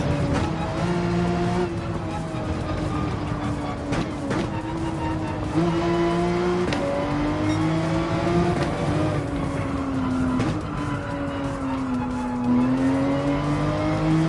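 Race car engine lapping Deep Forest in Gran Turismo 7, a loud continuous drone that climbs and drops in pitch through repeated upshifts and lifts, with brief tire squeal, and the car heard alone throughout.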